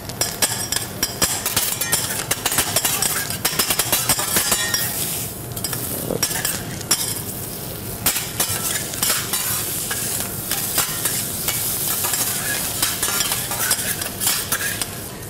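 Hokkaido scallops cooking with garlic butter on a teppanyaki hibachi grill in a restaurant, a loud continuous sizzle mixed with rapid metallic scraping and tapping of spatulas on the hot plate.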